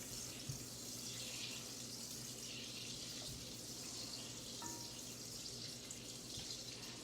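Butter melts and sizzles in a pan for homemade Alfredo sauce, a faint steady hiss with light crackles running throughout.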